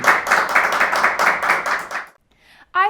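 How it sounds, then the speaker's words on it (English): A round of applause on a student news show, dense rhythmic clapping from a small group lasting about two seconds, then stopping abruptly, followed by a brief faint sound and a short voice. "I think Miss Riz deserves a huge round of applause for getting through all that."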